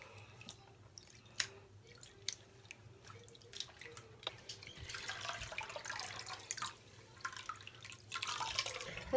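Water rinsing a synthetic wig in a sink: soft drips and trickling splashes at first, building into a steadier, gentle running-water wash, faint and close.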